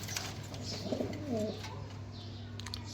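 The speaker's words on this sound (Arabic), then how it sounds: "حمام تكوين محترم" Pigeons coo softly in a loft of French meat pigeons, Aleppo and homing breeds, a few low throaty coos rising over a steady background hum.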